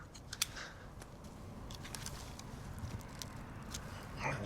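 Pruning cuts on a Japanese maple, Acer palmatum 'Shaina', during spring cutting: a few sharp close snips, strongest near the start, then scattered softer clicks over steady low outdoor background.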